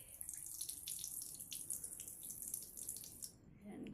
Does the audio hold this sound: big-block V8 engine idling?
no